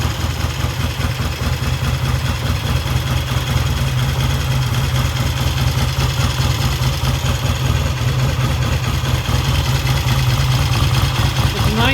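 A 1968 Triumph T100C motorcycle with twin carburetors, bored to 600 cc with Megacycle cams, idles cold after long storage, a loud, steady, close-up rumble with even, lumpy pulsing throughout.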